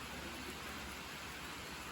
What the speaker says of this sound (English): And it is raining. Like real rain. Like actually raining.